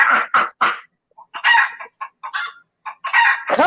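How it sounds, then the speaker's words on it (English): A rooster crows loud and close in repeated short bursts broken by silent gaps, with a couple of fowl clucks mixed in. "Get those chickens out of here."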